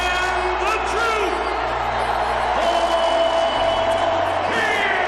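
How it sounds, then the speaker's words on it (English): Arena crowd at an NBA basketball jersey retirement ceremony for the Boston Celtics, a loud sustained roar of cheering, whoops and shouts filling the space without pause. "Ladies and gentlemen, how about one final applause for the captain"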